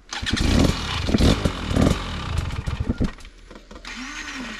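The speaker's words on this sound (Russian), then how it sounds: "Что не заводится? Газу дай." A Stark Varg motorcycle that won't start properly, giving close, loud bursts of revving in quick uneven spurts, then a quieter stretch with a faint whine.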